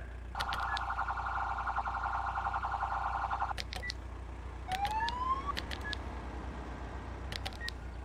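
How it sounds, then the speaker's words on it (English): Police car siren in the game Police Simulator: Patrol Duty, a steady warbling tone for about three seconds, then a brief rising whoop and short chirps over a low background hum. "seems like there's four sirens and just light stage only"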